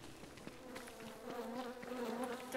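Bees buzzing in Don't Starve Together, a faint, steady insect drone with a clear tonal hum that rises slightly toward the end, with no speech.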